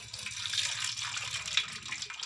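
Water running and splashing out of a cracked coconut, a steady close trickle with small splashes and no talking.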